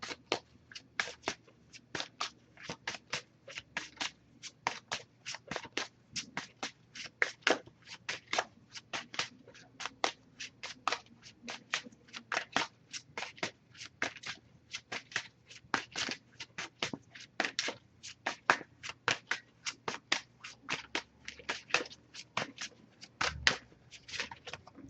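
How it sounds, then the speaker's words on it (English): An oracle card deck is shuffled over and over, making rapid soft riffling and slapping taps that go on steadily at close range. The sound is faint and quiet, with no voices. "Just going to pull a single card from this deck."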